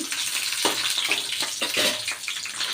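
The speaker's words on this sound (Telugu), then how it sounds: "కళాయి పెట్టుకొని కొంచెం నూనె పోసుకోవాలి పచ్చిమిర్చి కొంచెం వేగాలి" Green chillies sputter in hot oil in a kadai, a close, crackling sizzle with a few sharper pops and stirring scrapes, no voices over it.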